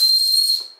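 A small toy whistle from a Motu Patlu magic egg is blown once, giving a loud, steady, shrill tone with breathy hiss for most of a second before it trails off.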